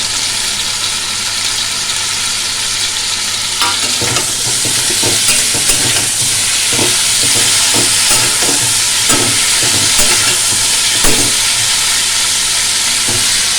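Tomatoes fry with potatoes and cauliflower in a hot pan, producing a loud, close, constant sizzle overlaid with a regular run of scraping stir strokes, with no voices.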